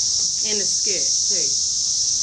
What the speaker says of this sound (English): listening to the cicadas. Apparently they hibernate for like every 17 years they come out.